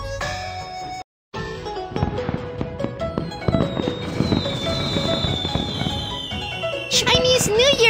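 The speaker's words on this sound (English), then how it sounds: "There are so many fireworks!" Cartoon fireworks for a Chinese New Year scene crackle and burst in a busy, loud sequence over bright music, with whistling rises near the end and a voice chattering over them.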